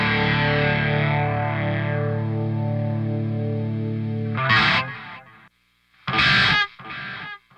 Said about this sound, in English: And that was our stereo delay